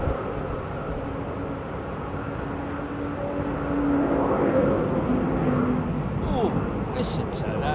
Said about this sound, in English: The wind causing all sorts of funny noises coming from these engines when they're side on.